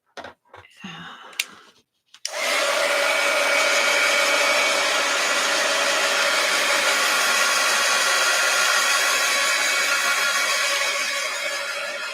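A hair dryer switches on after a few faint handling noises and blows in a steady loud whoosh with a constant whine while drying a painted art journal page, with no speech over it.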